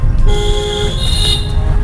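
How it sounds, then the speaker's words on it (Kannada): A vehicle horn honks loudly nearby in two long blasts, the second one higher-pitched, over a steady rumble of road and engine noise on the Agumbe Ghat road. "ಅವರು ಹಾರ್ನ್ ಹಾಕ್ತಿದ್ರೆ ನಾವು ಹೋಗ್ತಿದ್ದೀವಿ."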